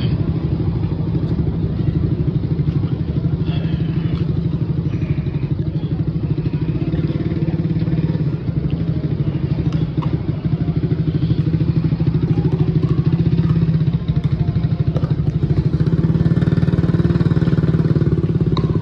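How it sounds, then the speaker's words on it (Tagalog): Motorcycle engines idle and rumble steadily in the motorcycle parking area of Robinsons General Santos City at night, with occasional clatter and thuds over a constant low drone. "Ito yung motorcycle parking of Robinsons General Santos City."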